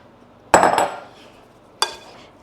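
A wooden spoon and bowl are fetched in a home kitchen while baking sourdough scones, giving two sharp clattering knocks about a second apart, the first with a brief rattling tail, close by and without speech.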